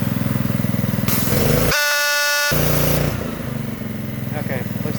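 A Ryobi 3300 psi gas pressure washer engine runs loud and steady, then surges as it revs up, with a brief tonal whine partway through.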